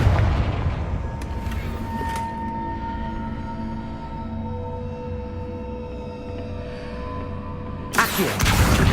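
A Confringo blast spell explodes in Hogwarts Legacy, the video game: a loud booming burst opens the clip, a long rumbling tail follows, and a second sharp blast hits near the end.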